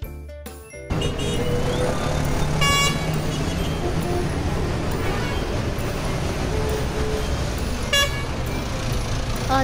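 A taxi pulls away in a children's story scene, its engine a steady loud rumble of road traffic lasting several seconds, with a brief horn toot partway through.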